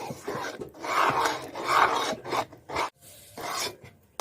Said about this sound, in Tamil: நல்லா கிண்டி விடுங்க.